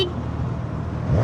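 Suzuki GSX-S1000 inline-four motorcycle engine running with a steady low rumble that swells slightly at the end, brief and fairly close.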